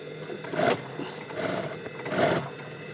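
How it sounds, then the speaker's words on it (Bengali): A sewing machine stitches closed the mouth of a bag, giving short whirring bursts of motor hum and needle rattle with brief pauses between runs, close and alone. "দেখো এটা সেলাই করে নিতে হবে মুখটা মুখটা সেলাই করে নেওয়ার পরে"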